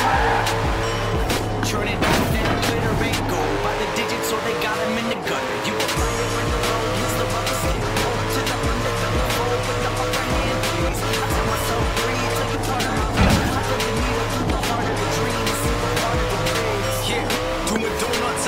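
A car in a racing video game is driven flat out along a long straight, its engine droning loud and continuously, with rising pitch sweeps as it accelerates through the gears and an occasional tire squeal.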